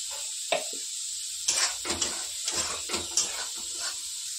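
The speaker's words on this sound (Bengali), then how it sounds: "তো এবারে গ্যাসের আঁচটা একটু জোরে দিয়ে একটু ভেজে নেব।" Semolina fries in ghee in a pan over a high gas flame, a steady bright sizzle broken by scraping stirs and soft clinks of the spoon.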